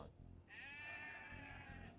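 A sheep bleats once, a clear wavering cry in the video game Age of Empires II, heard over a low rumble of game background sound.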